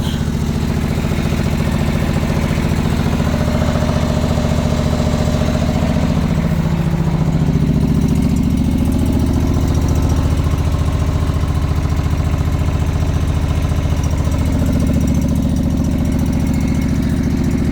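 A 1996 John Deere 425 lawn tractor with a 20hp engine runs steadily close by, a loud continuous mid-pitched engine drone that rises and falls slightly, no voices.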